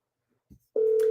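A telephone tone sounds after a brief soft click: a steady, loud single-pitched beep begins partway in and holds to the end, close and clear with no talk.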